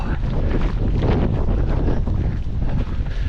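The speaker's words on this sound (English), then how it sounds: "it's pretty windy" Strong wind buffets and roars across the microphone during an outdoor 10k run, a steady, loud, low rumble that continues without a break.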